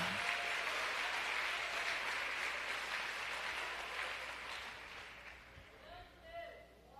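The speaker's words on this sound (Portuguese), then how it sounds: "Você consegue aplaudir ao Senhor pela sua palavra agora?" A church congregation applauds during a sermon, dense sustained clapping from a large crowd that slowly thins and fades toward the end, with cheers mixed in.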